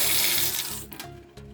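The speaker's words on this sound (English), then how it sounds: "let's check the faucet, see if water comes out" Water gushes loudly and steadily from a newly installed kitchen faucet into the sink, close by, then breaks into a few sputtering bursts near the end.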